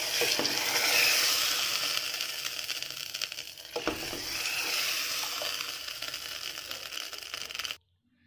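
Mustard seeds, cumin, chana dal, urad dal, curry leaves and garlic sizzle in hot oil for a tempering, a loud, steady crackle with a few pops that cuts off abruptly at the end.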